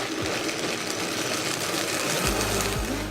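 Blender whirring as it purées garlic and sherry vinegar into a paste, a continuous buzzing motor sound, loud and steady with low churning pulses near the end.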